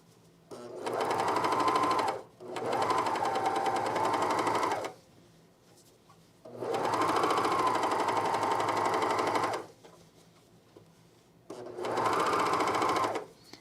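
A sewing machine stitches the inseam of a Sirocco jumpsuit in four loud, steady runs of a few seconds each, with brief quiet pauses between them and no voices.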